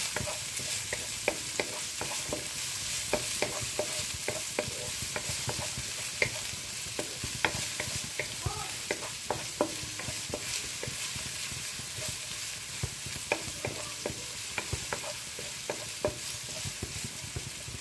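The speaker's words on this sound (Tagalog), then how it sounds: "Gisa-gisa lang. Isunod ko yung giniling." Ground meat sautés in a hot pan, giving a constant bright sizzle broken by frequent clinks and scrapes of a utensil stirring against the pan.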